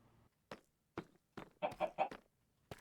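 Chickens clucking in a survival-crafting video game, a handful of short separate bursts and a tight cluster of clucks near the middle, fairly quiet with gaps of silence between them.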